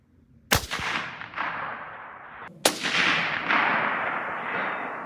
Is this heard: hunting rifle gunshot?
yes